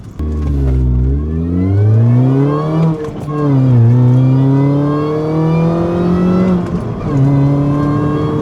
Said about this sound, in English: I can hear the supercharger a little bit more already